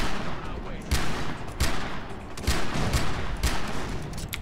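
Gunfire and grenade-launcher blasts in the shooter game Far Cry 3, with loud sharp bursts repeating roughly every half second to second over a continuous dense battle din.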